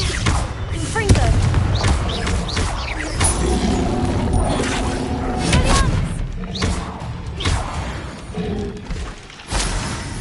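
Confringo spell blasts in Hogwarts Legacy, a series of booming thuds and crashes amid combat noise, with voices speaking over the action.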